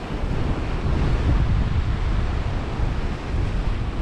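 Northwesterly wind blowing onshore at Parton Beach with a moderate sea, steady roar of surf and wind buffeting the microphone, loud and continuous throughout with no talking.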